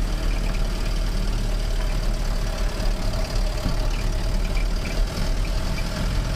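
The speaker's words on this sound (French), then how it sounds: "ça fait du bruit le moteur parce que j'ai pas refermé bien le capot" A car engine idles steadily with its bonnet not properly closed, a constant low rumbling drone that stays loud and close for the whole stretch, with no voices.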